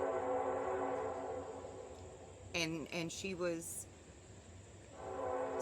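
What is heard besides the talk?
train passing by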